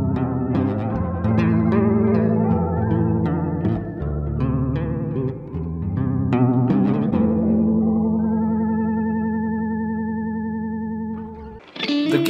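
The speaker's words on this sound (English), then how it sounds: "The bass riff was improved by vibrato for the wobble, this cool flashback delay preset that adds a lovely synthy texture" Bass riff run through vibrato for a wobble, a flashback delay preset and a touch of reverb, recorded on a 4-track cassette for a lo-fi beat; sustained notes ring out and fade with echoing tails.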